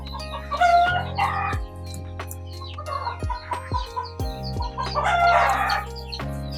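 Chickens cluck and a rooster crows amid high peeping chicks at a poultry farm hatchery with a 1000-egg incubator, in several close bursts over steady low mechanical hum.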